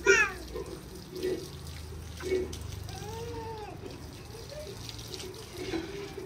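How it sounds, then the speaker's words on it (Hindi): Water splashed onto a dusty cement floor, intermittent splashes and a steady wash of running water at close range, with someone talking over it. "बस इसको फिलहाल के लिए अभी ऐसे पानी लगा दो ताकि ये ऊपर उड़ती ना रहे बस"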